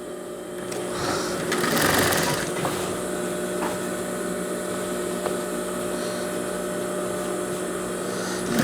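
Sewing machine stitching the seam of a pajama made for a Saudi thobe, running steadily and close by with a continuous whirring hum and a brief louder burst near the start.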